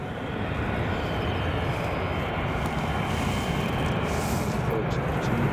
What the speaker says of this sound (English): Got some nice departures heading out this morning.